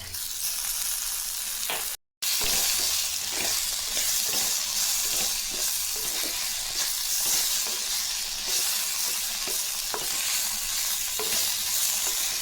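Tomato and masala sauté for a mutton trotter curry, a constant loud sizzle broken by a rhythmic series of spoon strokes against the pan, with one brief dropout early on and no talking.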